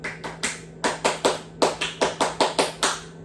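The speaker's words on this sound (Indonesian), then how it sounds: "mari kita tepuk pramuka dulu ya" A class claps out the scout-style pattern in unison, crisp close claps grouped in a syncopated rhythm of short bursts separated by brief pauses, with no talking over it.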